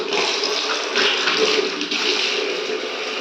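Water runs steadily from a tap in a newly designed attached bathroom, a continuous hiss of flow at close range with no talk over it.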